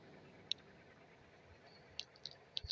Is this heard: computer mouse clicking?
yes